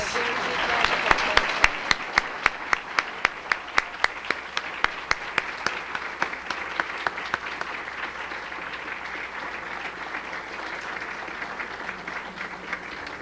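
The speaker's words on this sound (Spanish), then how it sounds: "podemos terminar con un aplauso inmenso para esta gente otra vez" Large crowd at a 1999 Latin American Feng Shui congress, recorded on cassette, gives sustained applause that settles into loud, regular clapping in unison, fairly even in volume throughout.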